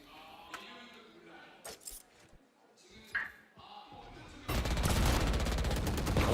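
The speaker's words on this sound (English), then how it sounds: "Shots going out." Gunfire in a Valorant esports match, heard as a few sharp shots scattered under commentator talk before a loud, dense burst of sustained firing takes over at the end.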